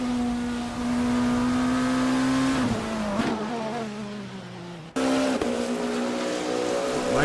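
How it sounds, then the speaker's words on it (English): GT3 race cars on the Fuji circuit in a racing game, heard as a loud, steady engine drone that rises and falls as cars pass close by, with a sharp pitch drop as each one goes past. "as you see some of the GT3 cars coming through now to try and pass him"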